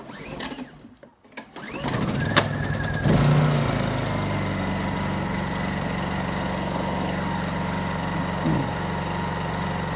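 A Predator 212 small engine runs on roughly three-year-old 100LL avgas, a steady loud idle drone after a brief startup, holding an even rumble through to the end.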